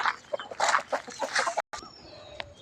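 A chicken clucks repeatedly and loudly at a temple in Lampang, Thailand, a busy run of close calls followed by a brief gap and a few fainter sounds.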